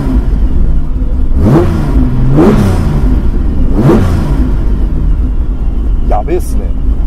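A red Nissan Skyline Hakosuka fitted with a TC24 engine revs sharply three times up close, each blip rising and falling quickly over a steady idle, with people talking around it.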